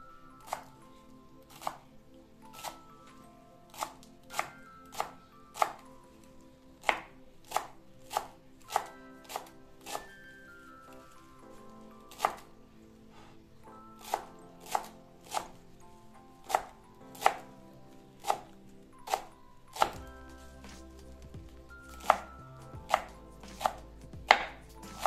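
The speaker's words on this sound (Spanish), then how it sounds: "Ahora vamos a picar el cilantro." Fresh cilantro chopped with a knife on a board for enchiladas verdes: sharp, crisp knife strikes, sometimes single and sometimes in quick pairs, irregularly spaced and close, with quiet gaps between.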